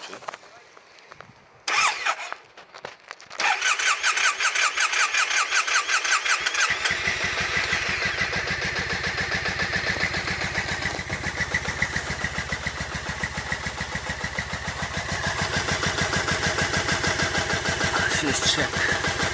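A Triumph Bonneville motorcycle engine cranks, catches and starts, then settles into a steady, rough idle that runs on loudly and close.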